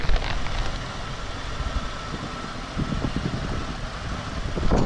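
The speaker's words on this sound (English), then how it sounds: "if you just heard that, it just stuttered" Pontiac Grand Prix GTP engine idling roughly up close, a steady rumble that wavers and briefly stutters as the idle dips before recovering.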